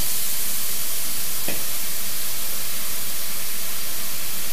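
Beer poured into ground meat sauce frying in a pan, giving a steady, loud sizzle and hiss throughout with a brief sharper burst near the start.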